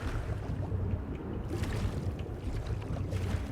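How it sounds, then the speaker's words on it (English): Ocean waves wash steadily in Skyrim, a dense, continuous rumble of surf with low churning and no speech. "kind of a headache, the waves."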